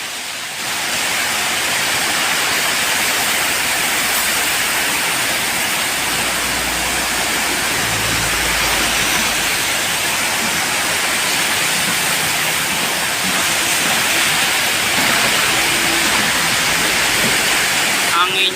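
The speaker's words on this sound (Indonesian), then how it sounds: "Hujannya lumayan besar guys," Heavy rain pours steadily outdoors in a village, a dense, loud, unbroken hiss from start to finish with no gaps.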